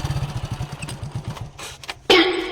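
A village motor vehicle with gears that will not shift to free has its engine chugging in a quick, even low pulse. The engine then cuts out and a loud clunk follows near the end.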